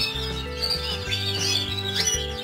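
Tits flying loose in an aviary give quick high chirps and tweets over a steady hum and low droning background, repeated calls rising and falling without any voices.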